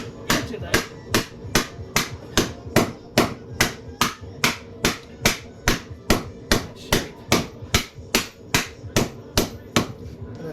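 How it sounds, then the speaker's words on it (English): A rounding hammer strikes metal in a steady, evenly spaced rhythm, about two blows a second, each ringing sharp and close. "So I'm using what's called a rounding hammer on this."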